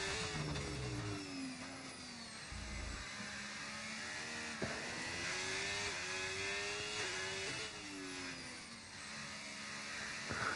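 A sim race car in Spain has its engine note rising and falling as it brakes and accelerates through corners, several revving sweeps under steady high background noise, with no talk in this stretch.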